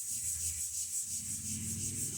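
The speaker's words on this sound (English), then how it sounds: "it's going to be quite the job sanding this one." Brief, steady rubbing of sandpaper against the finish of a 12-string guitar body, a soft scratchy back-and-forth hiss with a rhythmic pulse.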